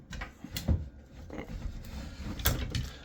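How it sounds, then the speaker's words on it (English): A stiff linen closet door in a house, used as a cleaning closet, is worked open and shut, making soft scattered knocks, thumps and scrapes at close range, fairly quiet, without speech. "Door's a little hard to operate."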